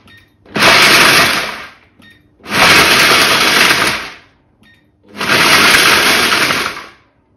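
A Kenwood Cooking Chef with its multifunction processor attachment pulses three times to grind nuts, each pulse a loud, close motor roar of about one and a half seconds separated by short near-silent pauses.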